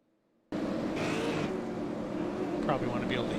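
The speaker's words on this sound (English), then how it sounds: "Probably want to be able to hear the cars too" Super late model race cars run pace laps at Five Flags Speedway, a steady engine drone that starts abruptly and holds under crowd and track ambience.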